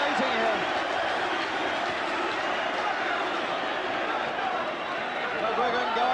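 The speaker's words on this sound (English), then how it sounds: "I've never heard such excitement in my life as this crowd is creating here." Huge arena crowd at a world featherweight title boxing fight, an unbroken loud roar of cheering and shouting that fills the space without a letup.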